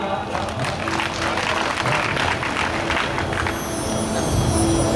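Loud applause from an audience at a religious discourse held inside a district jail in Haridwar, India, a dense continuous wash of clapping lasting throughout with crowd noise mixed in.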